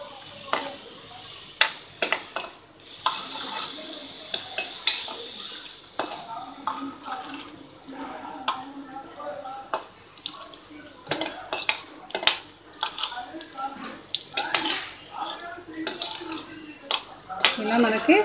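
Cashew nuts frying in a pan for a carrot dish, stirred with a metal utensil that clinks and scrapes against the pan in irregular bursts, close up under a soft background sizzle, with a voice talking at times.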